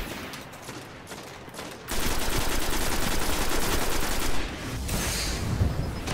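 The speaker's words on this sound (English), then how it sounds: "Oh my god, this has such a fast rate of fire" A fast-firing weapon in a Destiny beta Crucible match lets out a long, unbroken stream of rapid shots, loud and close, after a few quieter moments of game sound.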